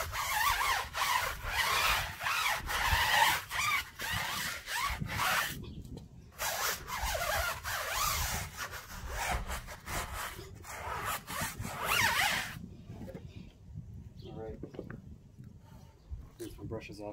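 A brush scrubs a car tire coated in Adam's Wheel & Tire Cleaner from a pump foamer, giving close, repeated rubbing and scratching strokes in bursts with short pauses, followed by quieter handling near the end.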